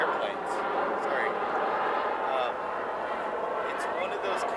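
Airplane passing overhead near Edinburgh Castle, a steady broad rumbling roar that holds at an even level throughout, with people talking faintly underneath.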